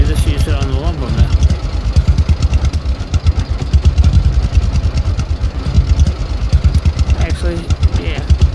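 A tractor engine in the video game Lumberjack's Dynasty chugs in a steady, pulsing rhythm at mid volume, running under a voice talking throughout.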